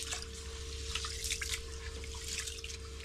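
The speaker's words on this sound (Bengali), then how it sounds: "এই দেখো চালটা আগে ধুয়ে নিই" Rice being rinsed in water before cooking in a home kitchen: a steady, continuous wash of trickling, dripping water close by, with no voices.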